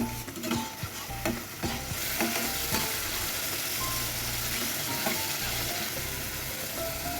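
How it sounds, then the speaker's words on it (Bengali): Turmeric, salt and mixed spices sautéing in a pan, a loud continuous close sizzle with the scrape and knock of a stirring spoon in the first couple of seconds, no talking. "হলুদ লবণ মিক্স মশলা একসাথে কষিয়ে নিচ্ছি"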